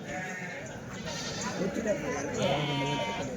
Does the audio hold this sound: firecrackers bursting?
no